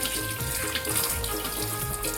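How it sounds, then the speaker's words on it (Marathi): Rohu fish rinsed under a running kitchen tap, a steady close stream of water splashing continuously over the fish with no talking. "तर सर्वात पहिले मी याला स्वच्छ धुवून घेते नळाखाली"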